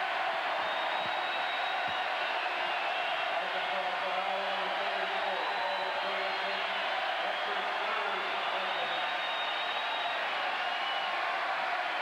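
A capacity crowd of over 10,000 fans in a basketball arena makes a steady, dense, distant roar during a 1995 Auburn vs Arkansas game. The roar holds at a constant level throughout, with no clear peaks of cheering.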